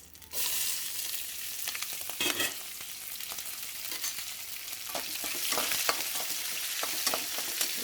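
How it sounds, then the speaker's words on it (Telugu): Curry leaves, chopped onions and green chillies fry in hot oil in a pan for talimpu rice, making a loud, continuous bright sizzle up close, with scattered crackles and stirring scrapes throughout and no speech. "కరివేపాకు, ఆనియన్స్, పచ్చిమిర్చి కట్ చేసుకొని వేసుకోవాలండి"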